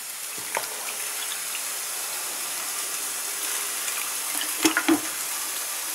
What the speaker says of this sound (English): Chuck some water in there.